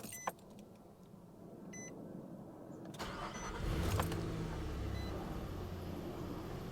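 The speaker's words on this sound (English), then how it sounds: "we're going to go ahead and start the truck" A Nissan Frontier truck with a crank sensor problem cranks and starts, the engine catching partway through and settling into a steady run after a quiet stretch of cabin and electrical noise. No one speaks.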